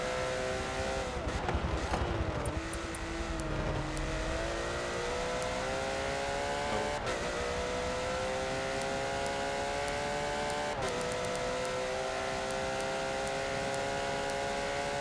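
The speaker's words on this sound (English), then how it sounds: "Ooh, slight power slide out like he's Jeremy Clarkson in his heyday" Porsche GT3 race car in a racing video game at the Bathurst circuit, its engine droning steadily and loud throughout with rising and falling pitch as it shifts gears, brakes and accelerates through corners, with no talk over it.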